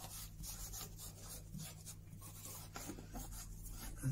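A polishing cloth rubs over a wooden period camera plate holder during French polishing, soft irregular scraping strokes close by, with a few light knocks.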